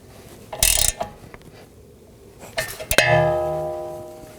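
A wrench snugs a nut onto a rear sway bar link on a Chevrolet Equinox, giving a few sharp metallic clicks and ratchet sounds, then one clear ringing clink of metal on metal, all close by with no voices.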